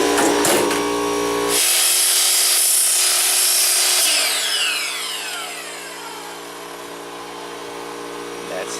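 A power saw cuts baseboard at a 45-degree angle in a tiny house. It makes a loud, close, whining cut lasting a few seconds, then winds down while a hum continues.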